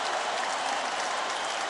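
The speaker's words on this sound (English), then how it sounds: "This crowd is on its feet." A virtual arena crowd in the UFC 3 video game roars and cheers continuously, a dense, loud wash of noise with no speech.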